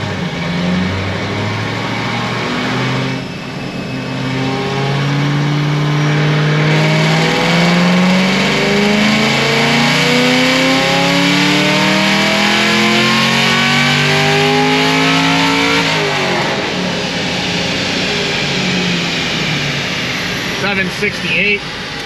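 A Whipple-supercharged fifth-generation Camaro V8 roars through a full pull on a dyno, its pitch climbing steadily and loudly for about twelve seconds before the engine drops back to a lower drone, with a voice briefly heard near the end.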